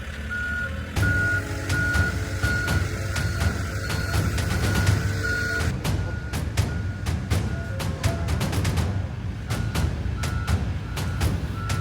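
A wheel loader towing a fishing boat on its cradle toward a purification facility sounds steady, evenly spaced reversing beeps over a loud diesel engine rumble, continuous throughout.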